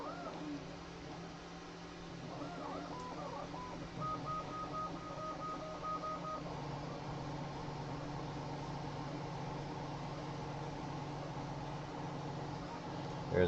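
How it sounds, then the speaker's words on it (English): Resin 3D printers running in the background of a workshop, a faint steady mechanical hum with a short patterned stepping tone in the middle, low and continuous. "You can hear my machines working in the background. They're 3D printing some props"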